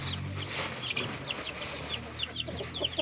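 Chickens cluck and chirp at feeding time, a busy mix of short clucks and high peeps close by, with a steady outdoor hum underneath.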